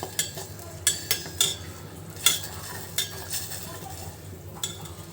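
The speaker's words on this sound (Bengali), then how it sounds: "ডিম ভুনা করতেছি, তার জন্য মশলাটা আগে কষিয়ে নিব।" Spice paste for egg bhuna cooks in a pan, a soft sizzle running underneath while a metal spoon scrapes and clinks against the pan in irregular strokes, close by.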